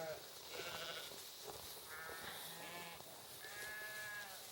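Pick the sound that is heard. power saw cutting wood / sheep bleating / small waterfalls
sheep bleating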